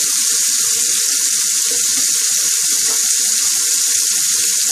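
Tap water runs steadily into a sink while a razor is rinsed under the stream, a constant close hiss and splatter with no talk.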